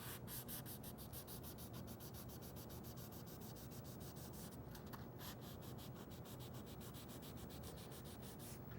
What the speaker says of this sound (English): you can probably remove it with a sanding pad such as this 120 grit pad here